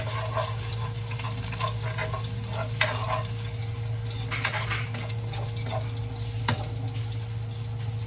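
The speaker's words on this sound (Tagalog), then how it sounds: "Lalagay na natin yung ating garlic dito sa pan." Garlic sizzles steadily in a hot pan for a picadillo of ground beef, a close, continuous hiss with a few sharp pops and crackles.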